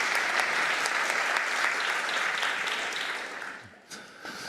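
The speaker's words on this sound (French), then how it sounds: "Vous pouvez l'applaudir, Nassira, quand même." Sustained applause from an audience, steady clapping that fades toward the end, with a few scattered claps after.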